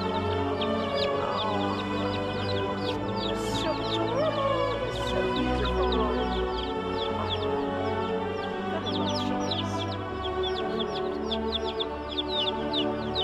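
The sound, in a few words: baby chickens and mother hens clucking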